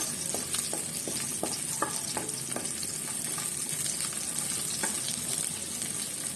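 Onion sautéing in a pan until light brown, a steady bright sizzle of frying with repeated soft scraping and stirring clicks from a spatula, close and continuous, with no speech.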